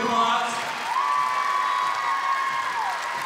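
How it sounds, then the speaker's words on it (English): Crowd in a high school gym at a pep assembly clapping and cheering steadily, a loud continuous roar of applause with a sustained whoop or whistle riding over it. "Give her a round of applause."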